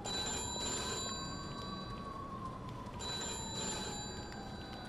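A telephone rings in the Mafia 2 video game, two bursts of an old-style bell ring with a faint background hum, fairly quiet and without speech.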